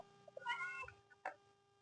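Hungry cats meow close by, with one drawn-out meow followed a moment later by a shorter second cry, in a quiet setting.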